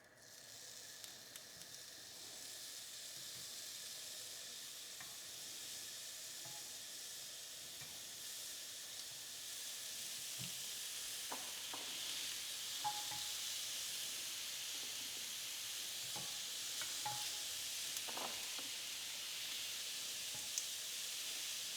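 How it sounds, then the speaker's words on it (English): Zucchini grills in a well-heated pan, a steady close hiss and sizzle that runs throughout and grows slightly louder partway, with occasional small pops and crackles. "now we'll start to grill the zucchini"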